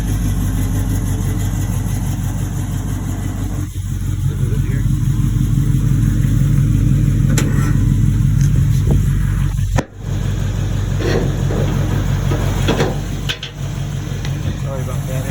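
A 1968 Camaro small-block V8 with Flowmaster dual exhaust idles close by in a loud, steady low rumble, a few brief dropouts breaking it while a person talks over it.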